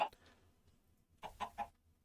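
A Minecraft video-game chicken gives short, close clucks: one at the start, then a quick cluster of three, with a quiet pause between them.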